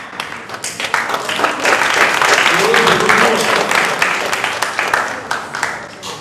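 Loud, dense applause from the crowd at a spelling competition award announcement, rising quickly and holding strong for several seconds before thinning out, with a voice speaking over it.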